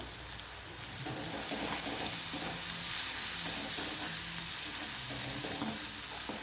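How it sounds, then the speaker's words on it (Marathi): Coriander leaves hit hot oil with turmeric in a pan for a cabbage stir-fry, making a constant crackling sizzle. A utensil stirs with rhythmic scraping pulses beneath it, close up and with no voices. "थोडी कोथिंबीर टाकून घ्यायची तेलावर"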